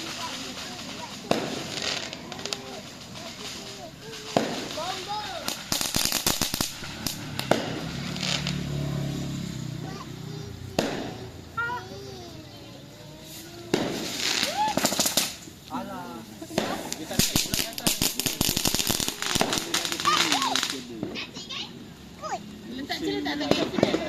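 Firecrackers pop and crackle in rapid bursts during Hari Raya celebrations, some loud and close, others farther off, while children and adults chatter nearby.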